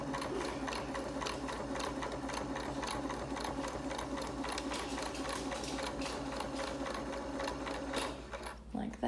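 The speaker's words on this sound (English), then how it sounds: "we're just gonna sew the whole thing closed" A sewing machine stitches a fabric face mask closed with ribbon ties, running steadily and close by for about nine seconds before stopping abruptly at the end.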